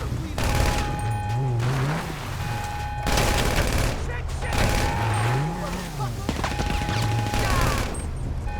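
A loud gunfight in the GTA Online video game: rapid bursts of gunfire rattle almost nonstop, with a rising and falling wail weaving through the shooting.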